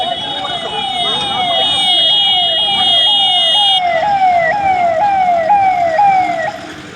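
A police car siren wails in a rapid, steady up-down yelp, loud and close, repeating throughout with a continuous tone layered on top in the first half, near a burning shop in Titabar, Jorhat.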